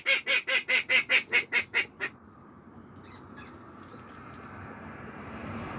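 A burst of about ten loud, evenly spaced honking quacks from a duck or goose near a covered chicken run in cold winter, stopping abruptly and leaving quiet outdoor ambience.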